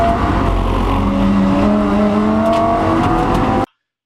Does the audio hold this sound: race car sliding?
yes